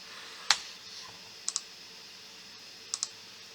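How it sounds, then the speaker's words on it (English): Computer mouse clicks at close range in a quiet room while software is operated: one sharp click, then two quick double-clicks spaced apart. "we did that by clicking remove right there"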